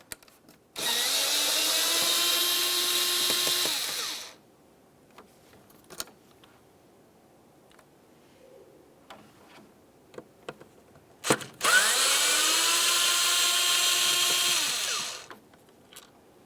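A power drill unscrews tamper-proof T20 mounting screws from the mass air flow sensor of a 2002-2005 Ford Explorer, two long whirring runs spinning up and winding down, separated by faint clicks and handling noises, with no talk.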